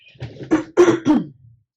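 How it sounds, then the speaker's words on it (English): A person who uses an inhaler clears their throat in a few short, rough bursts, close and fairly loud, with nothing else around. "you're always clearing your throat"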